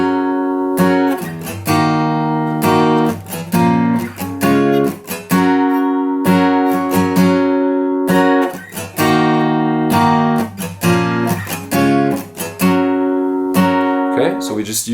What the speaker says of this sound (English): So if we play it with the singles, with the strumming pattern that I showed you before, it sounds like this.